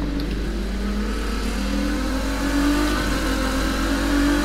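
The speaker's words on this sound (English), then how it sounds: "So I'm just gonna drive around now." A car engine in The Crew 2 driving game drones steadily with a low, continuous hum that swells slightly as it revs, loud and close throughout with no talk.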